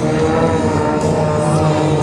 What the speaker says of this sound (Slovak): čo počujete, 4-krát motor Lycoming